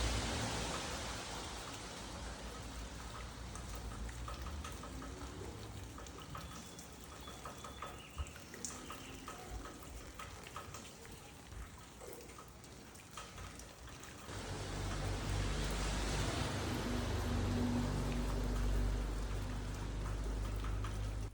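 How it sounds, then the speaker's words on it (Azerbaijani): Summer rain falls steadily around a quiet lakeside in rural Azerbaijan, a soft broadband patter that grows heavier and nearer in the last few seconds; bird calls are not clearly distinguishable within the wash of rain. "yağışın səsidir, quşların səsidir,"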